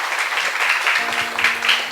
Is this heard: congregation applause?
yes